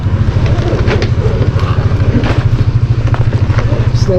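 A Sniper motorcycle engine runs steadily, a loud, close, throbbing rumble that continues without break while people talk over it.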